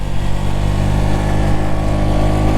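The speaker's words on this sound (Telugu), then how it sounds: "థర్డ్ గేర్ వేసి గుంజుతున్న బండి ఇంకా లేసలేదు" Motorcycle engine labouring in third gear on a long road trip toward Ladakh: a loud, continuous low drone with steady harmonic hum and slight wavering, no pauses, with no voices over it.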